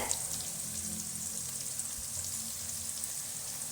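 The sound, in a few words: chopped capsicum added to hot oil, sizzling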